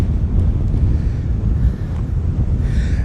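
A west wind blows at the Rockaways beach in New York City, a steady low roaring rumble buffeting the microphone throughout, loud and close, with no talk.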